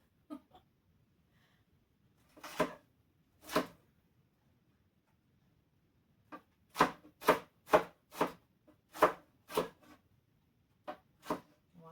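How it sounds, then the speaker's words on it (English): A knife dices food on a cutting board for chicken gnocchi soup, with crisp chopping strikes, first a few isolated hits, then a quicker rhythmic run of close, clear chops. "I'm just going to dice it up"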